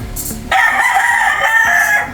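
An imported gamefowl breeder rooster crows once, loud and close, a sustained cock-a-doodle-doo over faint background noise.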